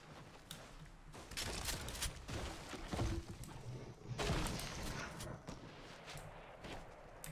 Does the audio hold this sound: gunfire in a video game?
yes